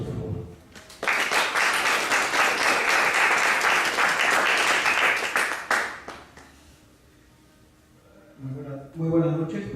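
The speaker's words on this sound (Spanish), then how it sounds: "Aplausos, por favor." Audience applause at a university rectors' assembly event, a loud, dense burst of clapping that swells quickly, holds steady for several seconds, then fades out, followed by a quieter pause and faint voices near the end.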